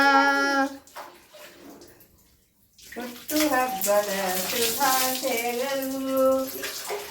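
Water is poured over an elderly man during a traditional oil bath at home, splashing in bursts with a pause partway, while a person talks in the background.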